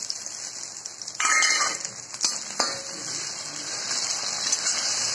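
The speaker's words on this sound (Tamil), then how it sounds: "இப்போ பாருங்க, ஆனியன் ஃப்ரை ஆகிட்டுருக்கு" Onion frying in a pan for chicken fried rice gives a steady, close hiss of sizzling oil that swells briefly after the first second, with a few soft clinks and no talking.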